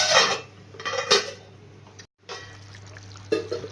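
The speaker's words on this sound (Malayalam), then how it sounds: "ഇനി നമുക്കതൊന്ന് മൂടി വെക്കാം." Metal clatter of a lid settling onto a pot of simmering fish curry, a bright clink near the start, another around the middle and a third near the end, with a soft low hum underneath.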